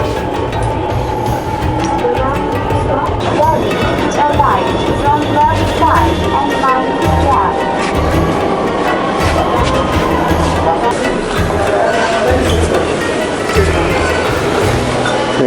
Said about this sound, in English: There we go, a very efficient ride on the metro.